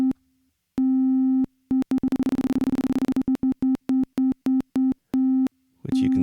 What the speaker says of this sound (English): If I used the square wave, it would just be an off-on.